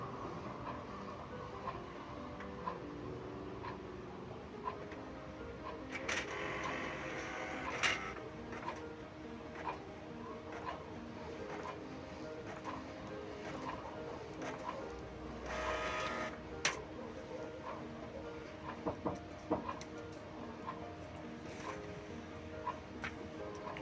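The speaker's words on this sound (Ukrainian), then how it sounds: "І ось принтер пішов друкувати." A printer prints a test page, running steadily for a long stretch, with rhythmic mechanical whirring, ticking and occasional louder clacks of the print head and paper feed.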